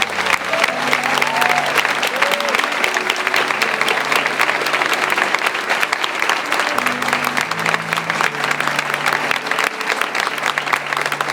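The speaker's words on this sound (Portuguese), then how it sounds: "Eu quero que você aplaude o Senhor pela vida deles." A church congregation applauds together, a long, even wash of many hands clapping, with a voice speaking faintly beneath and a low sustained musical tone.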